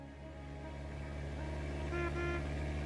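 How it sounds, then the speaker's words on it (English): A car horn in The Stanley Parable video game sounds as a sustained, steady tone with a slight swell near the end over a low engine-like drone, heard alone. "Beep beep."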